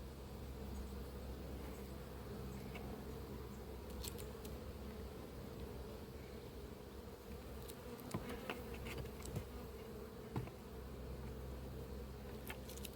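Honeybees buzz at an open hive in an apiary, a faint, continuous droning hum with occasional small clicks and knocks from handling frames, and no voices.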